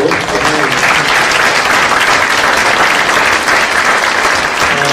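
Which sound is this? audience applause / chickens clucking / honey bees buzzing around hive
audience applause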